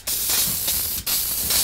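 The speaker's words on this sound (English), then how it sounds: "spray the surface of that thing." Krylon Crystal Clear coating sprayed onto a carved wooden sign in steady, loud, close aerosol hisses, broken by one brief pause between bursts.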